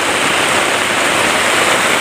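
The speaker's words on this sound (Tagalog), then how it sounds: "Napakalakas ng ulan mga idol." Heavy rain pours on a mountain, making a dense, loud, unbroken hiss that drums on a tarp overhead with no pauses.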